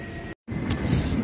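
Interior rumble of a Dutch train heading to Hoofddorp, a steady low droning ride noise briefly cut by a short gap, then resuming with faint rattling, no voices.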